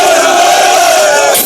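Candidates in Nigeria cheer one another with joy and high morale on the way to a final mandatory physical test; a loud, dense crowd roar with a sustained shouted chant runs throughout.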